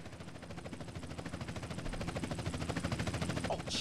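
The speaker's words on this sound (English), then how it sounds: "Chopper inbound!" A helicopter in the Grand Theft Auto: San Andreas video game approaches as a steady rhythmic rotor chop that grows gradually louder throughout, with no talk over it.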